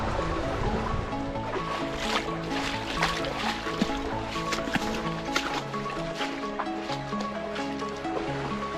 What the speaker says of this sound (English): Nice spot on the creek.